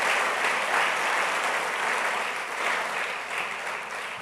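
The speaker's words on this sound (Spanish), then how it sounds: "Démosle un aplauso grande." A church congregation gives a big, sustained round of applause during a Sunday service, a dense, even wash of clapping that holds steady and fades slightly toward the end, with no talking over it.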